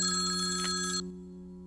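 A telephone rings at night, a bright electronic ring lasting about a second over a steady tonal hum, close and clear, then cut off with no talk.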